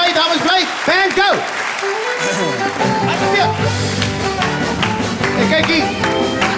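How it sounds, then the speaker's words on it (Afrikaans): An audience claps after the host of a musical laps game asks for applause, a burst of clapping and tapping under loud voices and music-like tones. "Geef al lekker aan 'n klap, dames en heren"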